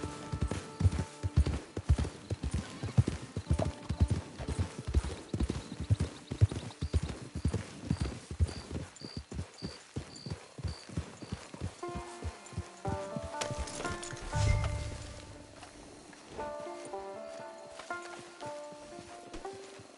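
Horse hooves clip-clop steadily at a walking pace in Red Dead Redemption 2, slowing and stopping at a camp, followed by a low snort and faint background music tones.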